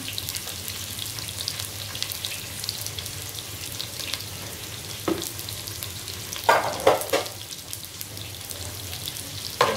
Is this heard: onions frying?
yes